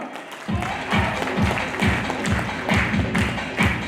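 A crowd at a political speech event gives loud, sustained applause for the incoming speaker, with strong claps falling in a steady rhythmic beat throughout.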